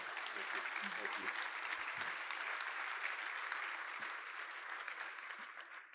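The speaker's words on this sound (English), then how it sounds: "let's give a big round of applause and thank you to our panelists today" An audience claps steadily for a panel discussion, a full round of applause that fades slightly toward the end, with a few voices faintly underneath.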